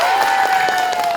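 Dense, steady audience applause fills the whole stretch, loud and close, many hands clapping at once with a faint crowd murmur beneath.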